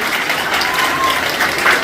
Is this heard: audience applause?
yes